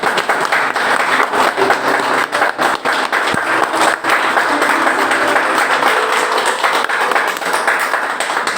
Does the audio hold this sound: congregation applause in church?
yes